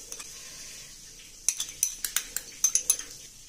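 A spoon mixes yogurt into a soya chaap marinade in a bowl: a quick series of sharp metallic clinks and taps, close and rhythmic, after a quiet start.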